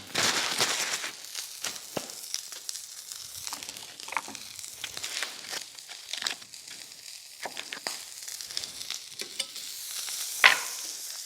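Butter cooking in a pan on the stove, a soft crackling sizzle under the scrape and stir of a utensil, with quiet intermittent clicks and one sharper clack near the end.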